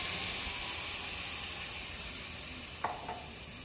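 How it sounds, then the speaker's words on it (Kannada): Ground masala paste sizzling steadily in a pan while being mixed for mushroom biryani, a constant hiss with a couple of brief scraping clinks from the spoon near the end. "ನೋಡಿ, ಈಗ ರುಬ್ಕೊಂಡಿರೋಂಥ ಮಸಾಲೆನ ನಾನು ಇದಕ್ಕೆ ಹಾಕ್ತಾಯಿದ್ದೀನಿ"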